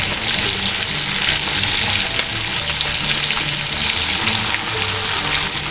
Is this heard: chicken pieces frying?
yes